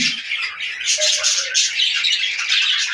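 Caged budgerigars, including a white hen, chattering continuously with close, busy squawks and tweets that overlap throughout.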